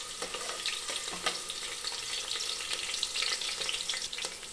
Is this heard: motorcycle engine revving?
no